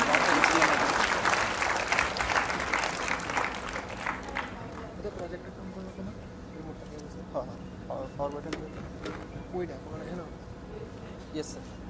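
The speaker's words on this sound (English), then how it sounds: "Ladies and gentlemen, a huge round of applause for the expert speaker." Applause from an audience at a college freshers induction program, dense clapping loud at first and thinning out over several seconds, with scattered claps and murmuring voices continuing underneath.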